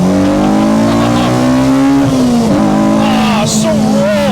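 A K20-swapped Honda Civic EG hatchback revs hard while driving, the engine note rising loud and close, dipping as it shifts and then climbing again, heard from inside the cabin.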